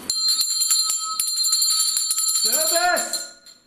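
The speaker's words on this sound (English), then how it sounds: "Ring the bell." A bell is struck repeatedly in a rapid, ringing series inside the Gotts Park Mansion, its bright tones sustaining and overlapping, and voices come in near the end.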